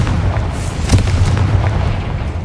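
A Confringo blasting spell from the Hogwarts Legacy video game goes off as a loud, close booming explosion, with a sharp crack near the middle inside a continuous low rumble.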